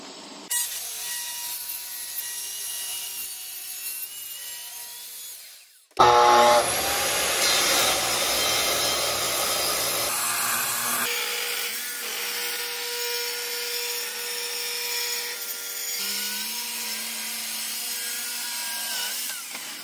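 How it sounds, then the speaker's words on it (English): A Festool TS75 track saw rips along Douglas fir, its loud motor whine and steady cutting roar starting after a few seconds of quieter workshop hum and running continuously to the end. "So rather than use the table saw, I'm going to use this track saw system here."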